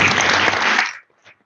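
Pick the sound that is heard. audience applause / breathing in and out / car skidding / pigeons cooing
audience applause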